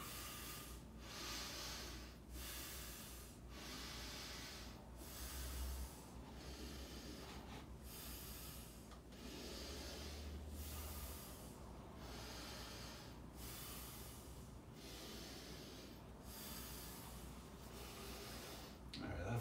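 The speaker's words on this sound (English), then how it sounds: "Gonna do a quick breath exercise." Someone does a quick breathing exercise in a gym before shoulder presses. Rhythmic breaths in and out repeat about every one and a half seconds for nearly twenty seconds, steady and close, over constant background noise.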